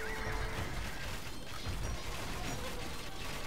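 Horses neigh and whinny as light cavalry in Age of Empires II, heard against a dense, steady wash of battle noise with clanking mechanisms throughout.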